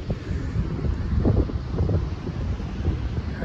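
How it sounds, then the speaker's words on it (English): Strong wind on the beach at Bullards Beach State Park in Bandon, Oregon buffets the microphone in a loud, continuous low rumble with gusty swells and a faint wash of surf, and no one speaks. "that wind is brutal out there on the beach"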